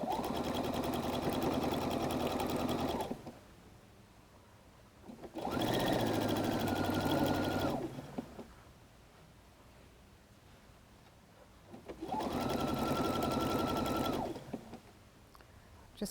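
A sewing machine stitches fabric-covered clothesline rope into a basket, running in three steady bursts of about two to three seconds each, separated by quiet pauses while the work is repositioned.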